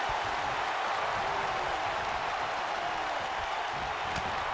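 Arena crowd in the WWE 2K19 wrestling video game, a steady roar of distant cheering and murmuring that holds evenly throughout, with no commentary over it.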